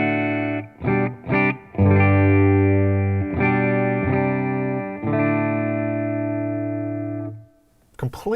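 A Fender Acoustasonic's humbucker pickup played through an electric amp gives a fuller, thicker tone: a few quick chord stabs, then sustained chords that ring for several seconds before stopping, with a short voice at the very end.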